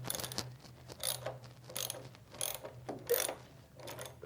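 A socket wrench ratchet loosening stock motorcycle handlebar bolts, short rapid clicking bursts in four or five spaced strokes, close but fairly quiet, with no speech.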